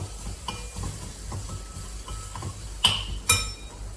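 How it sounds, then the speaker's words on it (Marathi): Turmeric and red chili powder being sautéed in a pan with soft stirring scrapes, a faint sizzle and two sharper metallic clinks of the spoon near the end, quiet and close with no talking. "ही थोडीशी हळद, थोडंसं लाल तिखट हे छान परतून घेतलं"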